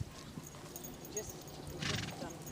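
Highland ponies at a stable, faint hoof clops and a brief whinny rising amid low background noise and distant voices.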